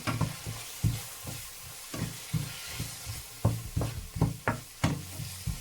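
A spoon stirs black pepper and curry powder into white beans cooking in ghee, with a steady pan sizzle under repeated scraping strokes in an irregular rhythm, close and moderately quiet.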